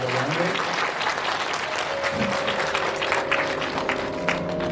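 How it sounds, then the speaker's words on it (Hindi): Loud, sustained audience applause welcoming young Brahmin Vedic students from Ujjain at a Devi Bhagavat Katha gathering in Rampur Bushahr, steady dense clapping throughout with a faint tonal hum underneath. "एक बार स्वागत के लिए इनका जोरदार तालियां बजाएंगे।"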